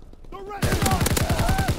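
Rapid automatic gunfire with incendiary rounds in a Call of Duty multiplayer match, a fast rhythmic burst of loud close shots that kicks in after a short quiet lead-in, with faint game voices beneath.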